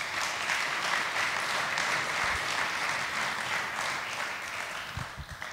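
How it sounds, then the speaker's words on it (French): An audience applauds at a French book award ceremony: steady, dense clapping fills the room throughout and tapers slightly at the end, with a few low thumps near the close. "Vous pouvez l'applaudir, s'il vous plaît."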